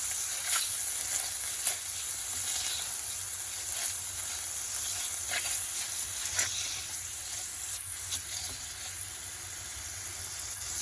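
Butter melts and sizzles in a hot pan, a steady soft hiss with scattered crackles and small pops, close and alone with no talk.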